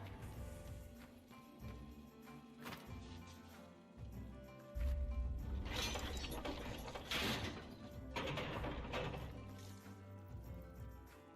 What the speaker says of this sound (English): I don't know what I have just done by pulling this lever